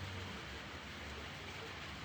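Steady rain hisses continuously, a dense even wash of drops on surfaces, soft and distant, with no speech.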